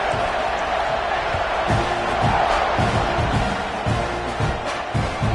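Football stadium crowd at kickoff of an Aggies versus Sooners game, a loud, sustained roar of cheering with rhythmic stomps or claps pulsing underneath throughout.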